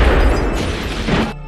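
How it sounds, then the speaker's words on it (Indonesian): A bomb explodes in a film scene, a loud, dense blast with a rolling roar that holds for about a second before cutting off abruptly. "kemudian bom pun meledak dan menewaskan Johnson."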